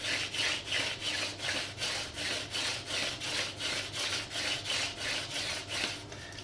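A wooden hand drill spindle rubs against a wooden hearth board in quick regular strokes, a rhythmic dry rasping back and forth, close and fairly quiet.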